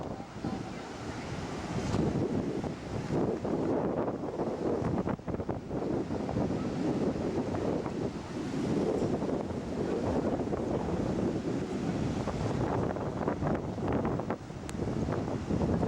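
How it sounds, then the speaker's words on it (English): Hurricane Wilma's strong wind roars continuously with crashing surf by a pier, a loud, unbroken blast buffeting the microphone throughout. "We got some pretty good sized waves over here"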